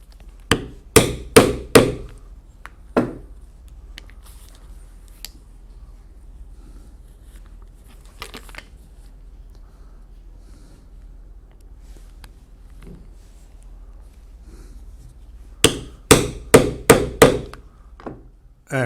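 A hammer strikes a setting tool to fix crystal rivets into a leather belt, coming in two sharp bursts of four or five close, loud blows at the start and end with a quiet gap between.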